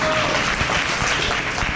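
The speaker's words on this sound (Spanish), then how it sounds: "Hey, un aplauso para KB, gente." A loud, brief burst of audience applause at a freestyle rap battle event, thick with crowd clapping throughout.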